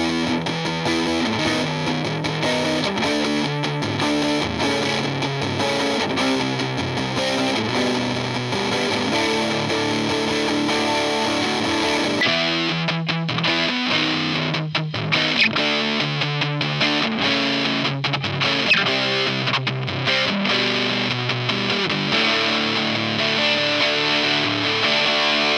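Electric guitar driven through a distortion pedal set for a 90s punk tone, strummed chords ringing loud and saturated throughout, with a brighter, thinner texture after the midpoint, and no voices.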